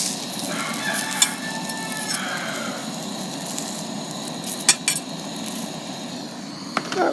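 Chicken pieces sizzling in a hot pan, a steady close crackle with occasional sharp scrapes and clinks of a utensil as the pieces are flipped.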